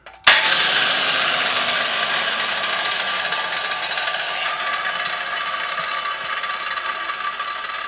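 Old corded vintage power tool switched on by trigger, a sudden loud motor whine that holds steady and slowly eases in level, close up and alone.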